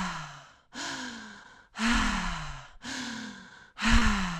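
Breathing in and out through an open mouth, close and clear, in five slow rounds of breath, each swelling and fading with short quiet gaps between, during guided meditation.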